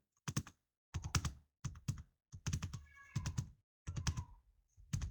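Keys clack on a computer keyboard in short, close clusters of quick taps separated by brief silences, about eight bursts in a few seconds, with no talking.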